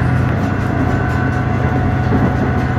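A passenger train runs on rails between Ichinoseki and Matsukawa, giving a steady, loud low rumble with rhythmic wheel clatter heard from inside, continuous and alone with no voices.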